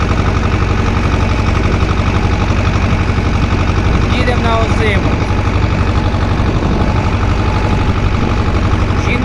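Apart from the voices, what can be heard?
T-25 tractor engine running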